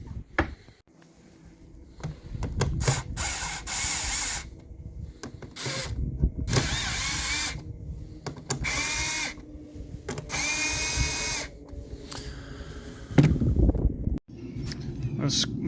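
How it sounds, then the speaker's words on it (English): A power driver with a 7mm bit whirs in repeated bursts, backing out four long screws from the factory LED third brake light on a 2015-or-later Ford F150, with ratcheting clicks between runs, close and loud. "I'm going to use a 7mm and just pop off all 4 of my screws here"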